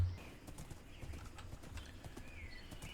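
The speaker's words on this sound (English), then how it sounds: "grab that horse, bring the horse over" Horse hooves clip-clop in a modded Minecraft world, soft repeated thuds at an uneven walking pace, fairly faint, with light game ambience around them.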